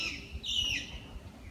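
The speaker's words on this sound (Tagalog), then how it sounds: "Diba, daming ibon." Birds on a rooftop give a few thin, high chirps and short tweets, fairly faint, over a quiet low background hum.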